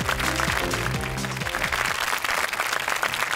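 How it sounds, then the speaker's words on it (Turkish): A studio audience at a Turkish TV word-game show claps steadily and fairly loudly for a few seconds, a dense wash of applause with no voices over it. "Alkışlarla onları uçan kelimeleri alıyoruz."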